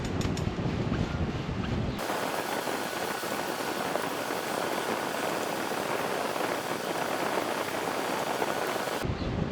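A hose sprays water onto a Range Rover Classic radius arm in a loud, steady hiss with no pauses, lasting about seven seconds between quieter moments at the start and end.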